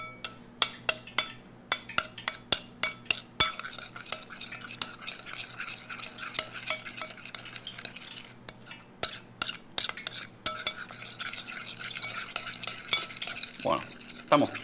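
Ceviche de piangua, a Colombian cockle ceviche with pepper, being stirred with a utensil in a bowl: a run of sharp, close scraping and clinking strokes that comes in quick bursts, then a softer continuous mixing and a brief rustle near the end.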